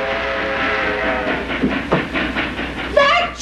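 A passing train, the Fireball Express, rumbles and clatters nearby with rhythmic wheel knocks, and a whistle sounds toward the end.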